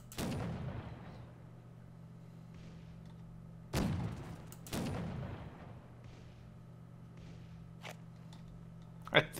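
A ship fires its cannons at a fort in the video game Caribbean!, with a few heavy booming shots spaced seconds apart, each rumbling away over a low steady drone.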